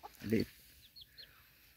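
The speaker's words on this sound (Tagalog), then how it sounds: "Liit na manok. Yan, labuyo." A short, close burst of low clucking from a red junglefowl, followed by faint high chirps in a quiet forest setting in San Mateo, Rizal.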